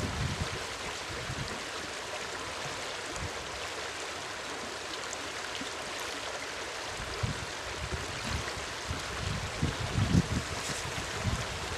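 Water rushes and trickles steadily into a spare plastic bottle as it is refilled outdoors, a continuous washing sound with faint bumps and handling noises toward the end.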